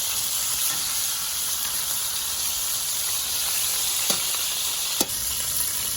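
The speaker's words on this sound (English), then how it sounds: "So now that these are starting to get a real nice sear on them, we're going to turn them over." Beef short ribs searing in a hot pan before a red wine braise, a continuous loud, close hissing sizzle with a couple of sharp clicks near the end, no talking.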